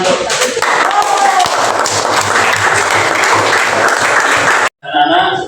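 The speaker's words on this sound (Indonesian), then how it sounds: "Dari tepuk tangan untuk" A classroom of schoolchildren bursts into loud, continuous applause, a dense, sustained clatter of many hands with some voices mixed in, cut off abruptly near the end.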